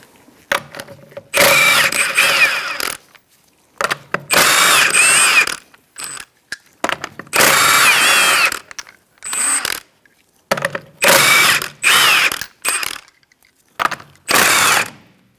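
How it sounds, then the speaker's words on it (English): Rear lug nuts on a 2004-2009 Mazda 3 being removed with a 21mm socket on an impact gun: repeated loud, close buzzing bursts of the tool, separated by short pauses and rattling clicks. "Using a 21mm socket, we're going to remove our lug nuts to remove our wheel."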